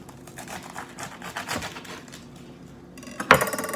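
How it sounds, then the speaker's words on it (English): A knife slicing leaves away from a lettuce base, leaving a two-inch knob, with a run of quiet crisp cuts and taps that ends in one sharper, louder snap near the end. "I'm gonna leave this knob here and I'm gonna cut the lettuce"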